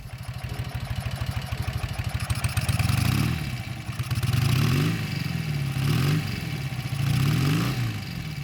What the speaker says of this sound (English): the quiet core muffler, it's still a deep tone and it gives a nice rumble, but it's not like mind-numbingly loud